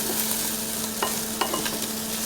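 Food roasting in a hot pan for an Italian pasta dish, with a steady close sizzle and several sharp stirring scrapes and clicks throughout, no voices.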